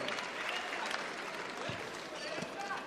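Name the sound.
crowd applause at basketball game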